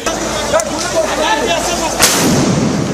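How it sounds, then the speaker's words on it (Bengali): A sound grenade goes off during a street clash with police in Bangladesh, where water cannon are also in use. A sharp, loud blast rises over a dense, noisy crowd background, with voices heard throughout. "পরিস্থিতি নিয়ন্ত্রণে জলকামান ও সাউন্ড গ্রেনেড ব্যবহার করে আইনশৃঙ্খলা রক্ষা বাহিনী"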